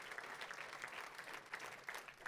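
A church congregation applauding in praise of the King of Glory, steady continuous clapping heard at a moderate distance, brief and without talk.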